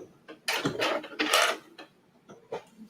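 A domestic sewing machine stitches Italian leather in short close bursts of mechanical whirring and clacking, separated by brief pauses and small handling clicks.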